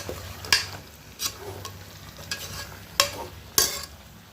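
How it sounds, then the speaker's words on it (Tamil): Mutton pieces are stirred through a masala mixture in a hot pan: a low, steady sizzle with five sharp scraping strokes of a spoon against the pan at uneven intervals, close by and with no voices. "இப்போ மட்டனை சேர்த்து நல்லா வதக்கிக்கலாம்"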